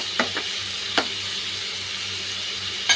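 Salted onions sautéing in a pan make a soft, steady sizzle, with a few sharp clinks or stirring knocks scattered over the sizzle and no voices.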